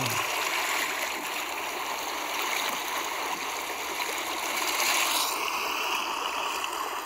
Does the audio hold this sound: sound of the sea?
yes